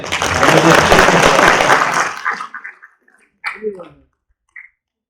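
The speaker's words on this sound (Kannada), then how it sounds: "ಚಪ್ಪಾಳೆ ಹೊಡಿದೆ." Audience applause at a Kannada public gathering marking a jayanti celebration, a dense burst of clapping for about two seconds that quickly fades, followed by a few scattered sounds.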